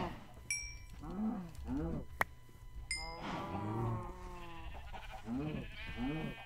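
Several Minecraft cows moo one after another, low drawn-out calls overlapping at moderate distance, with a sharp click and a few higher bleating tones between.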